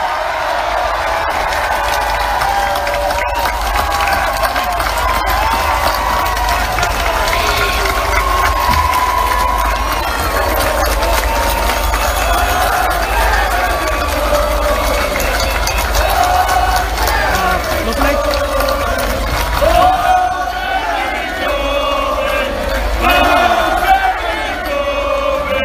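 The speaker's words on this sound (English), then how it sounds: "cheer for the next Prime Minister of this country" A huge outdoor crowd at the Durham Miners Gala cheers and roars for Jeremy Corbyn, a loud sustained wall of shouting and whooping that swells near the end.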